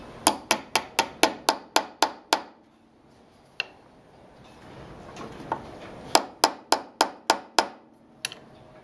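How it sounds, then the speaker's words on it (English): A hammer peens the pin of a slipjoint knife in a run of about nine sharp, evenly spaced metallic taps, a pause with a couple of isolated knocks, then another quick series of strikes, close and crisp. "then you peen that closed"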